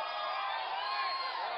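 Large rally crowd at a political rally in Anderson, SC, roaring and cheering continuously as a broad, steady wash of many voices, without any single voice standing out.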